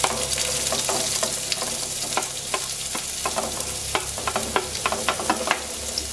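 Chopped onion, ginger and garlic fry in hot oil with mustard seeds, a steady close sizzle broken by frequent sharp pops and crackles over a low hum, with no voices.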